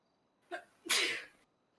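A single sneeze in a roleplay courtroom, with a brief sharp intake followed by a loud, breathy burst, close and alone against near silence.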